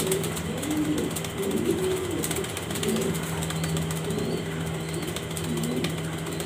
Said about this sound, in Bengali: দেখার মতো এক পেয়ার কবুতর জার্মান বিউটি